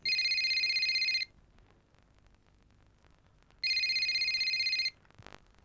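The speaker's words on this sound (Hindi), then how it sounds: "मुझे सनी को फोन करना है" Two long electronic ring tones sound about two seconds apart, a loud steady buzzing trill with quiet gaps between, like a phone ringing on the line.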